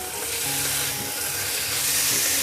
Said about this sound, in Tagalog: lagay na natin yung ating pork belly, 600 grams. Lagay natin siya sa high heat.